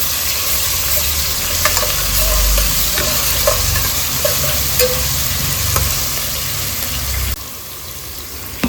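Ginger garlic paste, onions and curry leaves fry loudly in oil while being stirred, a dense continuous sizzle with occasional spoon scrapes and a low rumbling hum underneath.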